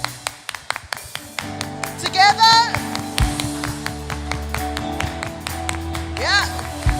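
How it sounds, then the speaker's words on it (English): A church congregation at an evening service claps together in a regular rhythmic beat, sharp, close and unison, while a person talks and musical tones swell briefly underneath. "when we say we clap, we all clap together like this"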